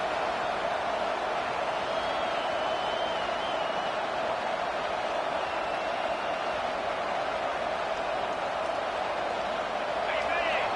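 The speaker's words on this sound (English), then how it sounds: "The roar of the crowd trying to fuel this defense to keep them pinned in their own end." A football stadium crowd keeps up a steady, loud roar during a third-down defensive stand, while a commentator talks over the noise.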